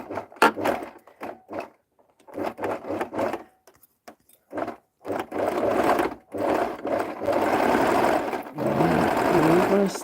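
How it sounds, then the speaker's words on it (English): A sewing machine reverse stitches fabric in short, whirring bursts separated by pauses, with longer continuous runs toward the end, while a person talks nearby. "I'm going to reverse stitch again."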